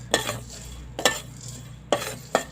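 Dried chilies dry-roasting in a pan for northern Thai larb chili paste, with four separate scraping stir strokes against the metal over a faint low hum and no voices.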